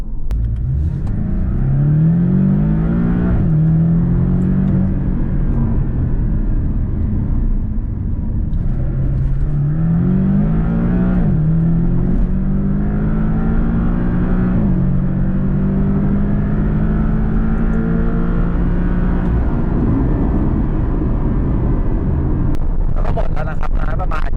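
A Porsche 718 Boxster engine revs repeatedly with boost building, rising and falling in several loud, close sweeps while someone speaks over the sound.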